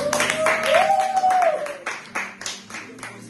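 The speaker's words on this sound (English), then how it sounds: "Clap it, guys." A group claps their hands at a New Year's Eve vision board party at home. Excited voices and a rising exclamation come first, then a few loose, uneven claps ring out close by.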